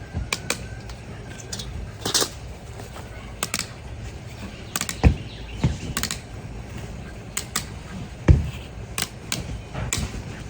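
Snips cutting material for a homemade baitfish trap, a run of crisp metallic snaps and clicks in uneven bursts, close and moderately loud over a low background hum.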